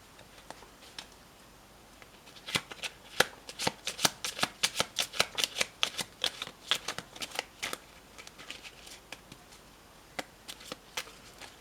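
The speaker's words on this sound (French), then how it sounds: "Alors, je vais couper et je vais prendre cette carte ici." A deck of playing cards is cut and riffled, giving a rapid train of crisp, close-up snapping clicks that builds into a dense burst mid-way and then thins out to a few scattered flicks, with no voices.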